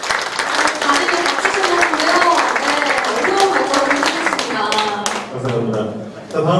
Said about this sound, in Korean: 큰 박수로 환영해주시고요.